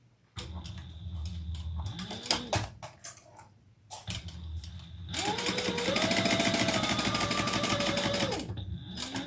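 A sewing machine stitches around a fabric edge at an eighth of an inch. Short stop-start bursts give way to a loud, steady whirring run of several seconds close by.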